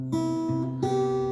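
Guitar chords strummed slowly, fingers crossing the strings in three clear, ringing strums with sustained harmonics, close and fairly loud with no talking.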